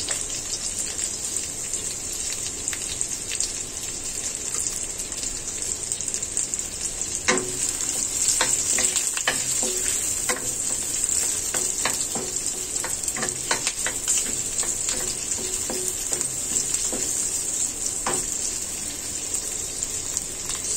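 Chopped onion sizzling in a hot pan as curry for chicken breast begins, a constant bright frying hiss throughout, with a cluster of spatula clicks and stirring scrapes in the middle stretch.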